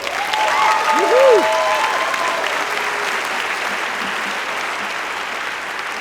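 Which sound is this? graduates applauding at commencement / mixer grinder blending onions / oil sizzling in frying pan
graduates applauding at commencement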